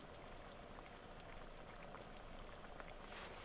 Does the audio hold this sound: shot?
no